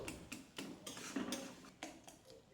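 A spoon scraping and clinking against a pan while stirring mashed eggplant bharta with chopped coriander and green chillies, a series of quiet, regular scrapes and knocks about every quarter second, close up with no talking.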